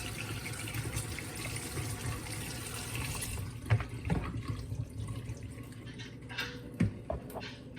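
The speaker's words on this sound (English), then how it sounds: "I like to run a little bit of cold water over it really fast." A cold tap runs steadily over strained pasta in a sink, then the flow slows to intermittent splashes and drips with a few clinks near the end.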